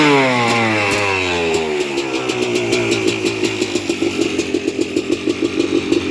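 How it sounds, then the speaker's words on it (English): Kawasaki KX250 dirt bike, freshly rebuilt with a new top end and cylinder, revs hard and close, its engine note climbing into a rapid, crisp two-stroke buzz with pulsing throttle blips. "Let's give it a good rev."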